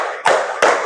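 Two sharp hand claps, evenly spaced about a third of a second apart, close and crisp, from a classroom clapping exercise led by a teacher.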